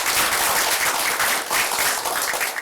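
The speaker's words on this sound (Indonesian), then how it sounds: "Ya, aplaus dulu buat Mas Wiwit." A studio audience applauds on a television talk show, a steady, dense wash of clapping at close range that carries evenly from start to finish with no voices over it.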